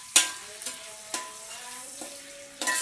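Ingredients for vegetable biryani sizzling in a pan, a steady quiet frying hiss broken by several sharp clinks and scrapes of a utensil stirring, with no talking.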